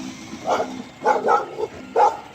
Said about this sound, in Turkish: Ay köpeğe bak. Gördün mü annem? Sana havlıyor.